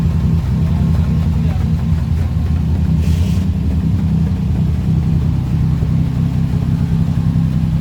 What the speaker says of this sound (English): Fourth gear. Beautiful, beautiful. Let it run for a while. I want to hear the diff.